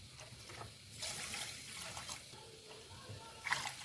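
Water is poured into a pan of sugar to make syrup, a faint, steady trickle and splash running for a few seconds under quiet room noise.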